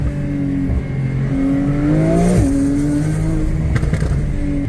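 A car driving and swinging through a U-turn, with a loud, close engine drone whose pitch rises as it accelerates, dips sharply mid-turn, then settles into a steady hum with tire and road noise, no voices.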